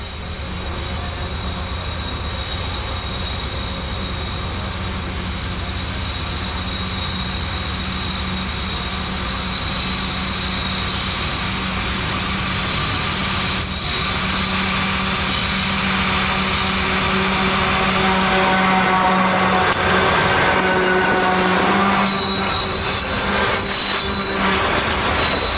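A long coal train rumbles steadily past at Gleneda, wheels squealing and grinding on the rails, with a constant loud roar throughout and no voices.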